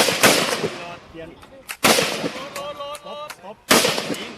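Gunfire at a police tactical training course with handguns and carbines: three loud, sharp shots spaced well apart, each ringing out with echo, while people talk in between.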